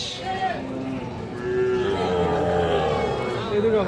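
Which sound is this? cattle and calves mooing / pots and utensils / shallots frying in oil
cattle and calves mooing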